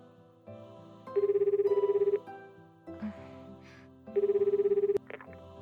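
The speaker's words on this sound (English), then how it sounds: "Sora pulls out her phone and makes a call." Phone call ringing tone in a Japanese visual novel game: two bursts of pulsed electronic ringing, each about a second long, separated by a pause over soft background music.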